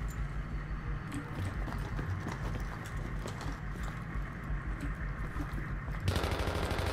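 Rapid automatic gunfire rattles steadily in Battlefield 3, rounds aimed at a bulletproof vehicle tire, a dense continuous burst with a brief louder flurry near the end.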